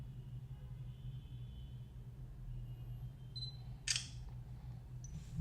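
A single sharp camera shutter click from a Sony Xperia E3 smartphone stands out against a low steady hum, followed by a faint electronic beep.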